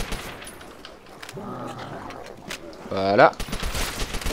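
Bursts of gunfire in Call of Duty: World at War zombies mode on a custom map, sharp shots scattered among game noises and growls, with someone talking over them.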